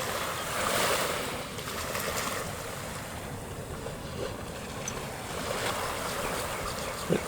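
Pacific Ocean waves wash against a Hawaiian shore in a continuous broadband rush, swelling slightly early on and then holding steady, with no talking.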